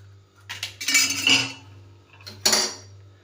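A utensil clinks and scrapes against a bowl while mashing eggs for an omelette, two bursts of quick metallic knocks with a pause between, close and fairly quiet.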